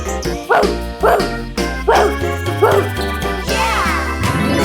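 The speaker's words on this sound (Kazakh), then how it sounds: "Бұл ит." A dog barks in a regular run of about five sharp, close barks, followed by a whining tail, all over a light musical backing.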